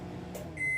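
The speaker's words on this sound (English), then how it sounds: "I like a bigger wattage microwave because it doesn't take as long." A high-wattage microwave oven hums steadily, then gives a sustained electronic beep near the end, heard up close with no talk.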